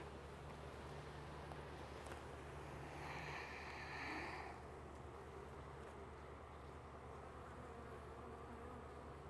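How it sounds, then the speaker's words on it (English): Honeybees at a hive during a fall inspection in the central United States: a soft, continuous buzzing hum, with one bee drifting close and louder for about two seconds in the middle. "The bees seem to be very happy."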